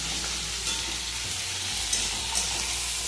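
A Bengali dhaba-style egg bhujia sizzles steadily in a pan, a continuous close frying hiss with a few soft stirring scrapes and no talk.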